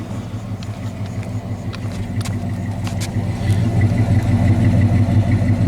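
A black 1977 Dodge Dart Sedan de Luxo with a concealed exhaust and no tailpipe tip, idling with a steady low burble that swells slightly louder near the end, close by with no talk.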